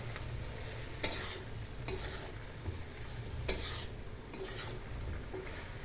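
Mixed vegetables with tomato and slit green chili get stirred in a pan, soft scraping strokes at a slow, uneven rhythm over a faint, quiet sizzle.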